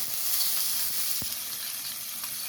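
Chopped onion and garlic sizzle steadily in hot oil with cumin seeds and asafoetida while palak paneer is being made, a constant close hiss with faint stirring and no talk.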